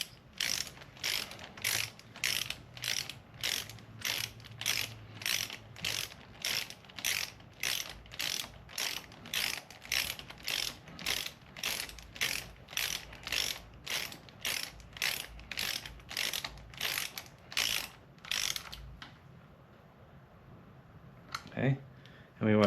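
A ratchet torque wrench tightens a bolt on a 2010 Subaru Forester engine, giving a long run of quick, evenly spaced close clicks for about eighteen seconds before it stops and a brief clatter follows.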